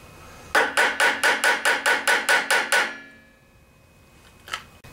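A hammer taps an oil seal onto the shaft of a Briggs and Stratton gear reduction unit: about ten sharp, evenly spaced metallic blows in quick succession, close and loud, followed by quiet and one fainter knock.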